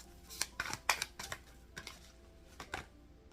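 Quiet, quick riffling and snapping of cards, a handful of crisp flicks in irregular succession, close by with no voices.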